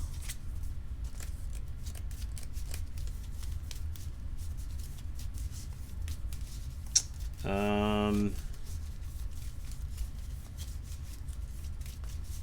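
A deck of Keyforge cards being shuffled at a tabletop game, heard as one quick riffle burst amid soft handling noise and background murmur.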